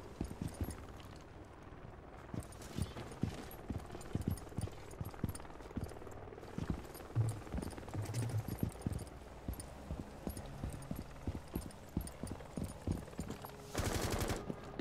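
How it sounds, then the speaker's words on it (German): Gunfire in Rainbow Six Siege: repeated rapid shots and short automatic bursts crackle throughout at moderate distance, with a louder noisy burst near the end. "Ich schieß nur."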